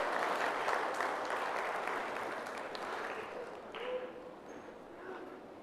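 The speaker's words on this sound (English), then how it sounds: "Round of applause, ladies and gentlemen." An audience applauds at the Miss Navajo Nation pageant, a dense, even wash of clapping from a large crowd in a hall that slowly thins and fades, moderately distant.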